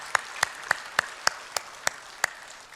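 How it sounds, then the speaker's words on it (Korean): Applause at a Korean church Sunday service, in the form of steady, evenly spaced hand claps, about eight of them in a slow rhythm, close and fairly crisp, with no talking. "박수로 환영합니다."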